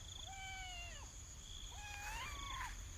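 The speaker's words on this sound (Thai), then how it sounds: "อันนี้บักดำแมวเมาเนี่ยเห็นบ่น่าฮักได้ดีเนาะ" A black cat meows twice in soft, drawn-out rising-and-falling calls, one after another over a faint steady background hum, with no talk.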